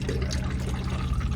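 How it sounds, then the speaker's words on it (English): A motorhome's toilet flush pump running in a Majestic 105, pushing water around the bowl with a steady low electric hum and continuous trickling, close and unbroken throughout. "when you press that, it pumps the water around for the flush"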